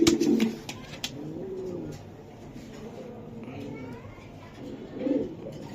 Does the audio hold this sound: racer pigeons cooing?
yes